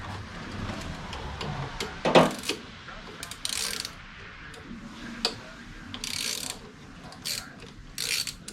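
A ratchet wrench with a 7/16 socket works on a 1966 Plymouth Fury III during a carburetor swap, giving scattered bursts of quick mechanical clicking, near and moderately loud, with no talk.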